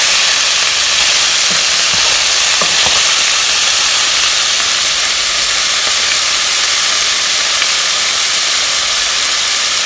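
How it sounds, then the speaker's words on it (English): Soy sauce sizzles on frying food in a hot pan, producing a loud, continuous steamy hiss with a few faint crackles early on, steady from start to finish with no talking. "All we do is just add this to it."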